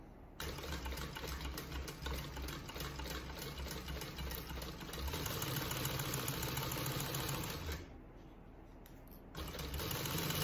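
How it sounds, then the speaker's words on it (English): Sewing machine stitching a seam on a bag lining slip pocket, a quiet rapid mechanical whirring chatter running almost continuously with a brief pause near the end. "we're just going to go ahead and sew this with 1/4 inch seam allowance, and then we're going to top stitch it"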